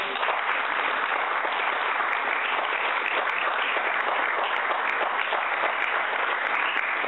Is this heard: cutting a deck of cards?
no